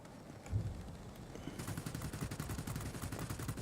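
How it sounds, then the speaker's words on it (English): Rapid bursts of 213C revolver cannon fire from a Me P.1102 B jet in an air-combat video game, sustained dense clattering volleys after a brief single shot, loud and continuous over engine drone. "we have an improved tail cannon on these. They're the 213C revolver cannons."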